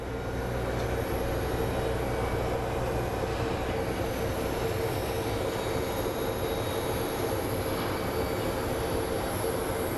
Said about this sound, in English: And there's our Volaris flight.